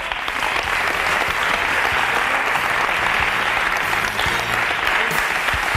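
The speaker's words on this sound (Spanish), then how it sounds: "Un aplauso para Lidia." Studio audience clapping for a guest on a TV talk show, a dense, steady burst of applause from many hands that carries evenly from start to finish, close and loud.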